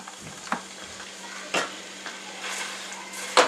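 Hamburger meat frying in hot olive oil in a pot gives a faint, quiet sizzle broken by a few sharp clicks and stirring knocks, with no talking.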